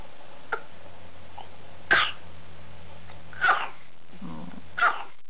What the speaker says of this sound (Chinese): 又感冒了，咳嗽咳嗽。